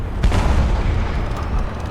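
A booming in-game explosion from a charm pouch set off by a kill in a Minecraft GregTech modpack, with one loud low burst followed by a rumbling decay that lasts under two seconds.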